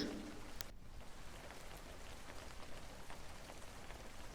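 Steady rain falls on a surface outdoors in winter, a continuous dense patter of drops with no voices.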